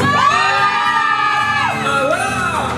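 A concert crowd at a showcase shouts and cheers loudly and continuously, many voices rising and falling together in a sustained roar, with no individual talk standing out.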